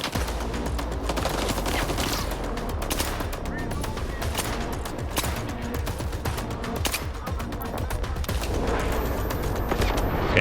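Automatic weapon fire in S.T.A.L.K.E.R. 2: Heart of Chornobyl, a dense, continuous clatter of shots running loud and steady through the whole stretch with no pause.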